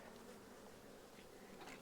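A dense swarm of bees hums continuously close by, a steady buzzing drone with no voices.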